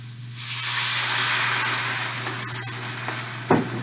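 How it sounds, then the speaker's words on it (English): Red wine poured into a hot pan after browning pot roast, bursting into a loud, steady sizzle and steamy hiss that holds throughout, with a brief scraping clack near the end and no talking. "Now that's what they call deglazing."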